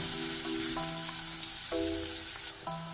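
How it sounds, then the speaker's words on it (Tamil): Chopped onions sauté in a pan for a green tomato milk curry, giving a steady soft sizzle throughout, with a few faint tonal sounds in the background. "வெங்காயத்தை ஓரளவு வதக்கி எடுக்கணும்"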